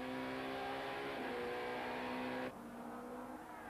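Super touring race cars roar steadily at Kyalami circuit with a loud, sustained engine whine that cuts off abruptly partway through, leaving a fainter engine drone.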